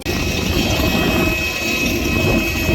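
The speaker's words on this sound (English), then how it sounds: "I don't think that airplane engine's meant to sound like that." A loud, steady airplane engine roar with a harsh, unusual tone, continuous and close throughout with no voices.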